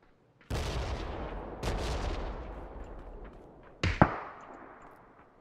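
Gunfire in a video game battle near a compound: a few sharp, distant-sounding shots ring out with long decaying echoes, followed by a brief louder crack near the end, without any talking.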